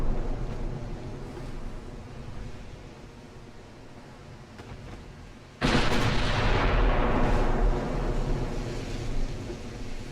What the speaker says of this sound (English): Start firing on the one in the rear.